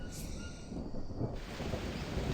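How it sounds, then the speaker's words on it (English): Rain falls steadily in a rainforest thunderstorm in the survival game Green Hell, a faint, even wash of noise with a low rumble beneath and no voices. "Raining again. Storm."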